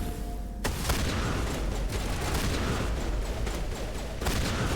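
Shotgun blasts in Mass Effect 1, a sudden loud shot followed by dense, continuous heavy firing and impacts with little talk over it.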